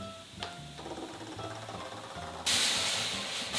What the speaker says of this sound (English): you can press the steam button once for a non-stop steam